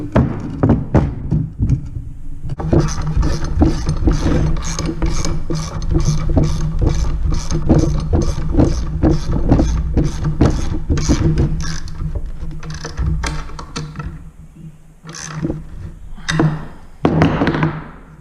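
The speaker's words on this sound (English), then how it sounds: "I was trying to bolt this on for the first time" Bolts and nuts are fastened to secure a rocket launch rail pole, with a long run of quick, evenly spaced metallic ratcheting clicks and taps close by, breaking into irregular knocks and thumps toward the end.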